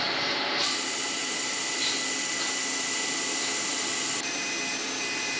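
Valve seat holes being machined into a cylinder head, a continuous steady whirring cut from a boring tool that holds an even loud drone for the whole stretch with a small shift in tone partway.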